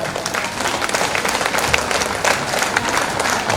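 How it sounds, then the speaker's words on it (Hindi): A large crowd at an annual gathering in Rourkela, Odisha claps loudly and continuously in a dense, even wash of applause to welcome the chief guest. "तो रोरे 100 मन से आज है जोरदार ताली दे के उनके"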